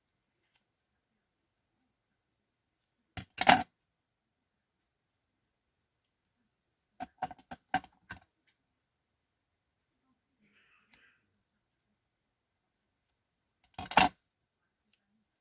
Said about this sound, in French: je vais prendre mes ciseaux de couture